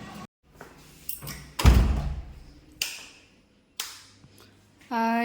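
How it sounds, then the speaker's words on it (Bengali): Household door being pushed shut, a scrape followed by a heavy thud and a few lighter knocks and clatters close by, with a brief voice at the very end. "দরজাটা বন্ধ করে দিই।"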